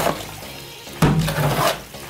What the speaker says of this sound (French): nous allons passer maintenant au mouillage